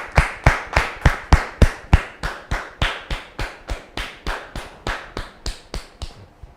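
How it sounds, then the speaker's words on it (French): An audience welcomes a guest with steady rhythmic clapping in unison, about three sharp claps per second, loud and close, gradually softening before stopping. "Je vous demande de le recevoir sous vos applaudissements"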